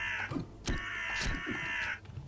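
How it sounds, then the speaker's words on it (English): Several crows caw in a graveyard in the video game Unepic, their harsh, rasping calls repeating and overlapping close by in a steady chorus. "Look at all the crows!"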